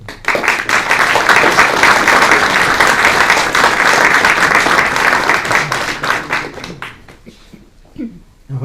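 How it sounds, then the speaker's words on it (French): Loud, dense applause from an audience at an archery company's blessing ceremony, honouring Angy's new municipal team, holds steady for about seven seconds before thinning into a few scattered claps. "Je tiens à ce que l'on applaudisse la nouvelle équipe municipale d'Angy"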